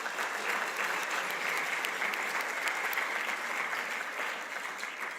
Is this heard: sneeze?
no